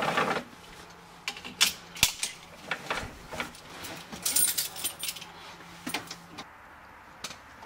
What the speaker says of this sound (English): I'm going to put on my seat belt.